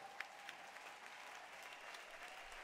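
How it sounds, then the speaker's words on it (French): A church congregation claps and cheers, acclaiming the risen Christ during a worship service; steady, fairly faint applause with scattered shouts, no speech over it. "Est-ce qu'on peut acclamer le ressuscité de tous les temps?"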